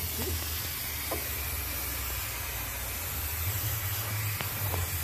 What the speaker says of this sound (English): Watch yourself, I'm going to spray it all down